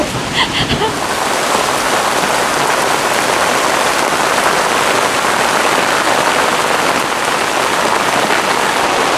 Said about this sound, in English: I don't know if you can hear me over the rain